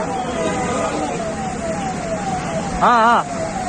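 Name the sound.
police vehicle siren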